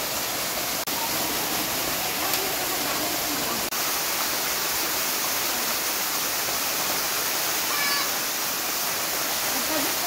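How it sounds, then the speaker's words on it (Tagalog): A waterfall beside a cave in a Philippine province pours with a loud, steady broadband rush that stays constant throughout, close by, with a few faint clicks and no clear talking. "yan na yung falls na pupuntahan namin"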